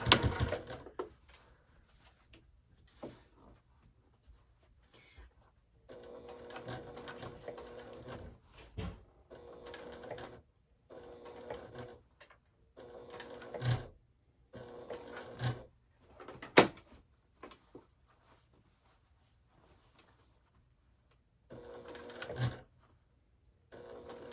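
A sewing machine stitches a Penny clutch bag at a long stitch length in short, fairly quiet bursts separated by pauses, with occasional clicks and handling noises.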